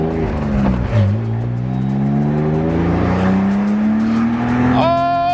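A BMW Z3 roadster's engine revs loud and close, its pitch climbing steadily toward 6,500 RPM over several seconds before a quick shift near the end, with a voice briefly audible beneath.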